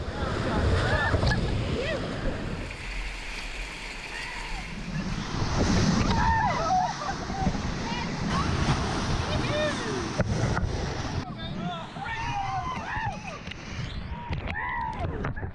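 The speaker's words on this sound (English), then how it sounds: "The rapids jolt the boat with plenty of force." Rushing whitewater churns and crashes around a moving boat, with gusting wind noise and voices shouting over the roar.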